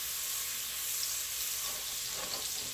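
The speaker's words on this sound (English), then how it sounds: "I'm going to put the butter right in there also" Butter and oil sizzle in a hot pan over medium-high heat, a steady, close, even frying hiss with a few faint stirring sounds and no one speaking.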